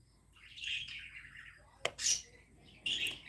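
Pet birds indoors give quiet high chirps and tweets in short bursts, with a few sharper clicks in between, faint and close in a mostly still room.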